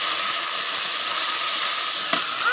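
Ginger paste hitting hot oil in a pan gives a steady, loud hissing sizzle, with a brief clatter near the end, no talking.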